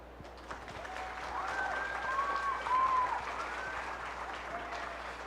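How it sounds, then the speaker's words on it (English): Contestants at a county fair Farm Bureau ambassador contest receive a warm round of applause from the crowd, faint and distant, swelling slightly midway before holding steady. "Please, one more time, give all the contestants a big round of applause for a job well done"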